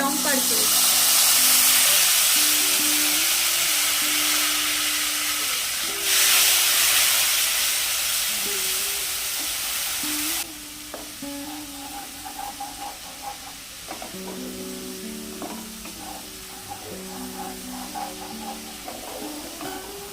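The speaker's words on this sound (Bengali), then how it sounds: "কালো জিরে দেওয়ার তিরিশ সেকেন্ড পর দিয়ে দেব আমাদের তিল আর পোস্ত" Sesame and poppy seeds hit hot oil in a pan with nigella seeds, a loud, bright steady sizzle and hiss that eases after about ten seconds into softer frying crackle, with tonal clinks and stirring underneath.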